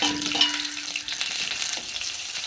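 Fenugreek, onion, garlic and green chili frying in hot oil in a home kitchen, giving a close, steady sizzle with some stirring scrapes and no talk.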